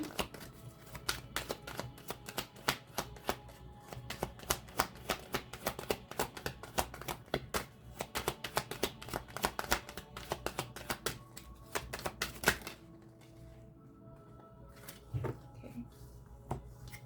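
A deck of cards is shuffled close by in quick riffled bursts of crisp flicking clicks, quiet and continuous, then a short pause and a few final taps.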